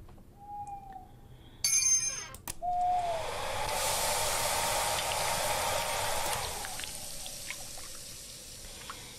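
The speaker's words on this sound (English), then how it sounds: "I hear the bells going off" Bells ring out in the video game Frosty Nights: a clear ringing tone, a sharp clatter of chimes, then a longer hissing wash that fades, fairly faint and with no talking.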